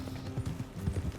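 Horse hooves clip-clop steadily at a riding pace in a video game, a soft rhythmic thudding of several beats heard fairly close with low background ambience.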